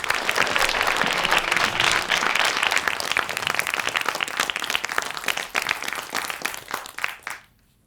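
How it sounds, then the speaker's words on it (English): Audience at a speaker event gives a big, loud round of applause for a speaker walking on, dense steady clapping that thins and stops abruptly near the end. "Big round of applause for nobody else than Nikul"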